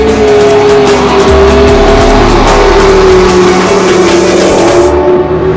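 A hybrid supercar's petrol engine accelerates hard, loud and close, with a steady rising engine drone and some tyre noise throughout, alone without talk.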